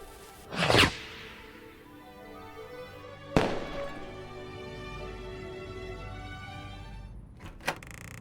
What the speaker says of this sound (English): and lit the firework